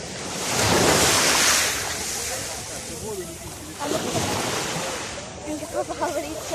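Strong sea waves rush and break near the shore, a loud surging wash swelling at the start and again later, with wind buffeting the microphone and a voice speaking briefly over it.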